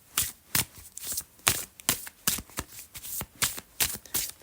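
A deck of oracle cards being shuffled by hand, a fast run of crisp, close riffling slaps and flutters in a steady rhythm with no talk.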